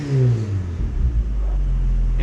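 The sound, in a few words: car engine revving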